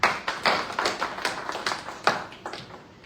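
Light, scattered clapping from a small audience at a press conference, a few uneven claps close by, with no talk over them.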